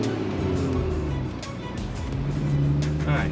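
A BMW 435i M-Sport with an Akrapovic exhaust drives in Sport Plus mode, its engine a loud, steady drone with slight swells as it revs, heard from close by with no talk.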